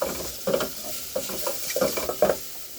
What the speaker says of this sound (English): As I go ahead and put cooking oil, so we get into the process of frying it